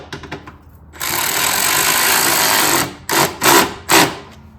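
A power tool whirs steadily for about two seconds and then gives three short bursts while tightening a bolt on a Cobb intake fitted to a Subaru WRX. It is close and loud, with faint clicks before the first run.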